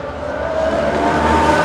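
A modern Formula 1 car engine drones loud and steady for under two seconds, its even, sustained whine rising slightly as it runs, with no speech.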